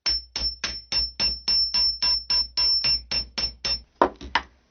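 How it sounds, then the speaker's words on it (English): A texturing hammer beats a metal blank in a fast, even series of about a dozen sharp ringing taps, close and alone, ending in two louder strikes. "hold the hammer so it's going to be striking the metal blank straight up and down"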